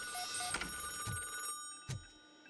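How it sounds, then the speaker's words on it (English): In the video game Robocop Rogue City, a telephone rings with short electronic trills followed by a couple of dull thuds, fairly close and fading into quiet with no speech. "Creepy ass phone calls."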